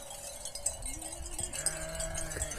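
Pregnant sheep bleat a few times outdoors while grazing, wavering calls over faint background noise and distant rustling, with no talking.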